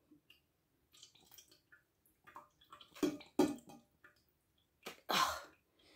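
A portable water filter drains out, with water trickling and dripping in short, intermittent bursts, some louder splashes near the end.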